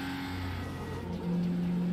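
A Porsche engine in the racing game Need for Speed Porsche holds a steady, loud drone, then steps up to a higher, stronger note partway through, with no voices over it.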